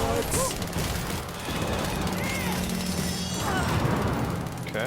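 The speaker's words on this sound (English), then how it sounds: "Somebody's shooting at me." Rapid bursts of gunfire and crashing combat effects in Warhammer Chaosbane rattle continuously through a dense, loud battle soundscape, mixed with talking.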